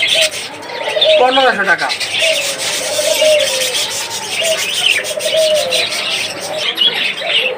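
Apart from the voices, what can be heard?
caged budgerigars and doves chirping and cooing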